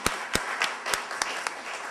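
Sparse clapping breaks out at a humane society luncheon, a few sharp distinct claps spaced irregularly over a quieter room murmur, like only some of the audience joining in.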